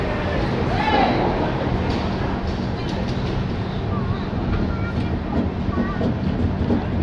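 The Digha–Visakhapatnam Express rumbles steadily along the rails with a constant, loud rolling noise and faint rhythmic clatter, while voices talk over it.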